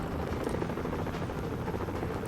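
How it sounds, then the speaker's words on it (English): An escape helicopter in the Mission: Impossible video game gives off a continuous, steady rotor drone at close range, with no talking. "to escape with the helicopter"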